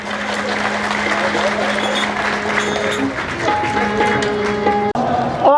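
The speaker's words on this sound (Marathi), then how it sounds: "आपण आपल्या स्वतःसाठी टाळी वाजवली पाहिजे" An audience at the 19th All India Vidrohi Sahitya Sammelan, a Marathi literary conference, claps for itself in a dense, steady burst of applause that fills the hall, with faint tonal sounds emerging toward the end.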